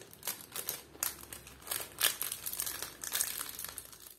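Plastic packaging crinkles as a slice of KitKat and strawberry ice-cream cake is wrapped, with repeated crisp rustles and crackles at close range. The sound is quiet and has no talk.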